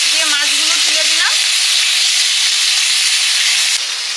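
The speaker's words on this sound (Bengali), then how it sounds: "তেলে দিয়েছি, দিয়ে মাছগুলো তুলে দিলাম" Egg-filled native koi fish hiss and sizzle loudly in hot oil, a constant close frying roar, with a brief voice-like tone near the start.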